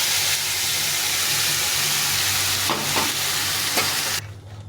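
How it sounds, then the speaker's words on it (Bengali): Loud, close sizzling of chicken frying with onions in a pan, with a few scraping stirs before the sizzle suddenly drops away. "এখন মাংসটাকে ছেড়ে দেবো পুরো মাংসটাকে দিয়ে এটাকে রান্না করবো"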